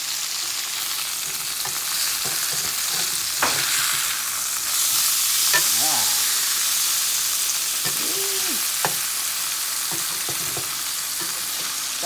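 Cheese-stuffed salmon fries in a pan with a steady, bright sizzle and crackle throughout, broken by a few soft scrapes and taps of a utensil, with no voices.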